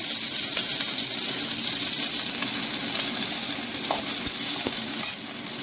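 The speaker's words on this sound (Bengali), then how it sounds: "বাঁধাকপিটা একটু ভেজে নিচ্ছি" Cabbage fries in hot oil blended with a little mustard oil for chow mein. A constant bright hiss is broken by a few soft scrapes and clicks from stirring.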